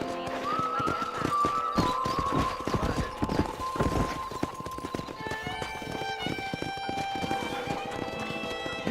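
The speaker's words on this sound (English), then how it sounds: "Let's see if we can't wrangle some horses." Horses gallop with rapid clip-clop hoofbeats and occasional whinnies in the Red Dead Redemption video game, set against a western-style musical score, the hooves dense and close throughout.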